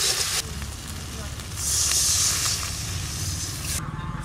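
Water is poured into a hot cooking pan with turmeric and salt for a village catla fish dish, producing a sharp sizzling surge that settles into a steady hiss.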